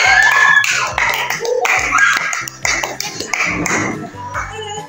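A fifth-grade class at SD Charitas Batam claps after a school presentation. The clapping is close and busy, mixed with excited children's voices and shouts, and it runs throughout.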